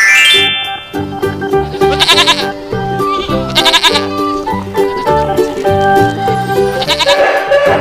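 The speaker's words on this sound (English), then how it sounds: "Goat." Goat bleating over a busy musical backing track in a children's animal-sounds animation, several loud wavering bleats repeating through the music.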